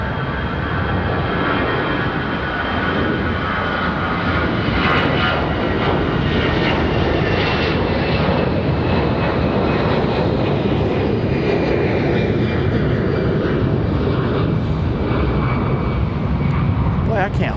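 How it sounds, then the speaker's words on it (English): A Spirit Airlines jet departing runway 23 left for Fort Lauderdale, a loud sustained engine roar that stays heavy and broad throughout its takeoff run and climb. "Spirit Airlines off to Fort Lauderdale"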